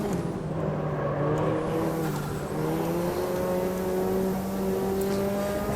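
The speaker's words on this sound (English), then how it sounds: "You hear the turbo spinning up behind us by the sound of it." A race car engine in the racing game Automobilista 2 drones steadily while a turbo whines and spins up, with rising and shifting tones over a constant mechanical roar.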